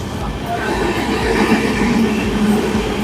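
A train rumbles past Belagula station at speed without stopping, with a steady roar and a faint metallic squeal near the end.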